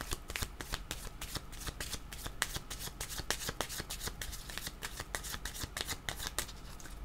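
Tarot cards are shuffled close up in a fast, continuous riffling patter of crisp card slaps, with no talking.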